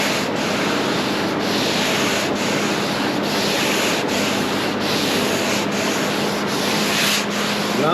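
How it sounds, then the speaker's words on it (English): Steady, continuous scratchy rasp of a 3M sanding block rubbed back and forth by hand over primer on a fiberglass boat mold, with faint rhythmic strokes, close up and alone. "We're blocking with our 3M block here."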